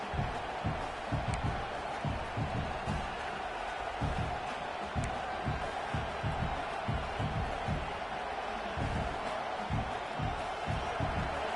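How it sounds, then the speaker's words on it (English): Stadium crowd noise in a college football video game featuring Michigan, a steady dense roar filling the whole stretch with rhythmic thumping underneath, broad and continuous at moderate level. "Listen to this crowd just shaking the girders of this place, trying to help their defense."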